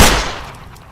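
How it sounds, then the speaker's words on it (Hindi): A single loud gunshot in a gangster film cracks at the start and decays quickly into a fading echo, heard alone. "यहाँ चारों तरफ गोलियां ही गोलियां चल रही हैं।"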